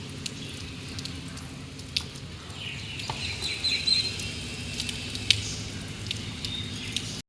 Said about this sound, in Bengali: আর এদিকে দেখো কি বৃষ্টি হচ্ছে।